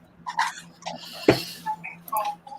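Small female puppy making short yips and whimpering sounds, close and intermittent over a quiet background with a sharp clack in the middle.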